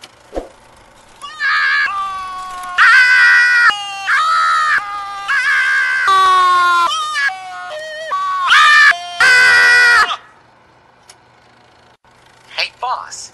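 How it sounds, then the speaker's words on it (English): Two cartoon characters scream together in a comedy show, rising and falling piercing shrieks in several loud overlapping bursts across the first ten seconds, with quiet gaps in between. "It's impossible for both of us to scream at the same time"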